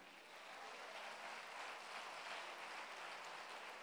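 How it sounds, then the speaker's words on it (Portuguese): Audience applause at a Portuguese-language church service, a steady wash of clapping that swells in and holds for a few seconds with no voice over it. "Vamos aplaudir."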